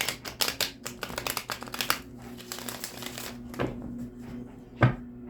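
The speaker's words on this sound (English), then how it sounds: "Get this good shuffle in for you" Rapid papery riffling of tarot cards being shuffled up close, a dense burst of flicks that thins into a few separate taps and slaps.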